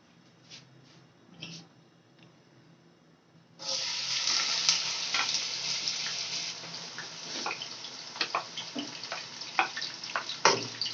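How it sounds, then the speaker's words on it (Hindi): Chopped onions drop into hot oil for a chickpea pulao and break into a sudden bright sizzle. A little faint stirring precedes it, and the sizzle stays loud and crackling to the end. "तेल गर्म हो चुका है। अब हम इसमें अपनी प्याज ऐड करेंगे"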